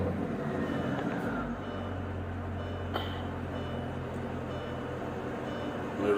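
A Mercedes-Benz CL500 with its M113 engine idles with a steady low rumble and mechanical hum from up close, the tone holding even throughout and no talking.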